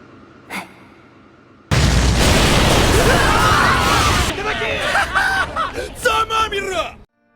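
Bomb explosion in an anime fight scene: a sudden loud, broad blast bursts in after a faint moment and roars for a few seconds before breaking into ragged shouting and yelling that fades out.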